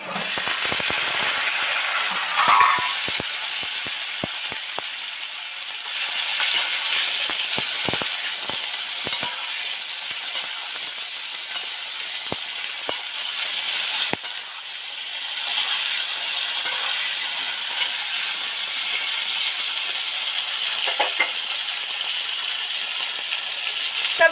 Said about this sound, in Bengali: সবজিগুলো মোটামুটি তেল ছেড়ে এসছে ভাজা হয়ে এসছে